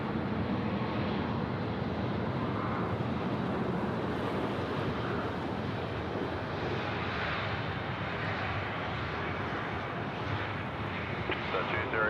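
A Batik Air Boeing 737 MAX 8 takes off at Sydney Airport, its engines a steady, loud broadband roar with wind buffeting the microphone throughout.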